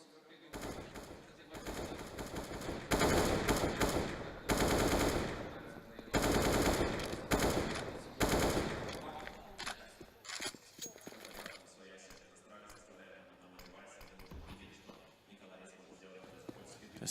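Rapid bursts of pistol gunfire ring out during a professional CS:GO match on Inferno, loud and close at first and then thinning into scattered shots and clinks, with an esports caster talking throughout.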